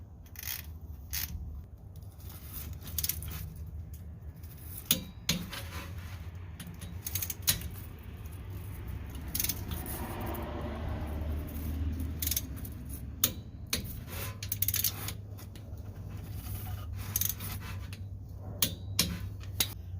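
Bolts on a custom differential cover on a Roush being run down and snugged, then torqued to 33 foot-pounds, with repeated light metallic clicks and ratcheting ticks close by over a steady low hum, without any talk.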